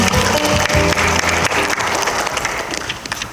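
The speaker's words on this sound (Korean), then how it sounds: "박수 한 번 더 부탁드리겠습니다." An audience at a Korean conference of city mayors, county heads and district chiefs gives steady, loud applause, with faint background music beneath the clapping.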